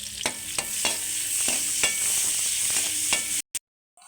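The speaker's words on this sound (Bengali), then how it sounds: "এটা একটু ভালো করে ভেজে নেব।" Chopped onion and green chilli fry in hot oil with a loud, steady sizzle, broken by regular scraping stirs of a spatula in the pan before the sound cuts off abruptly.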